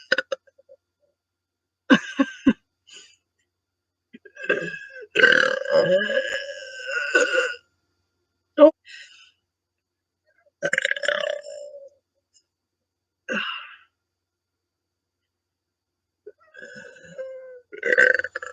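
A woman burps several times, loud drawn-out belches with short gaps between them, close to the microphone in an otherwise quiet room.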